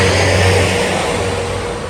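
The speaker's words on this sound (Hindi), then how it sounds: "गाड़ियों का शोर ही बहुत है" Steady road traffic roars past on a busy street, cars and engines blending into a loud continuous wash of noise that slowly fades a little, with no one talking.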